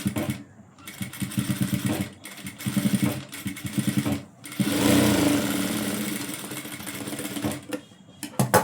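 A sewing machine runs in steady bursts while stitching a seam in fabric during a tailoring lesson on folds and pleats, its motor whirring and needle chattering close by, with short pauses between runs and no talk.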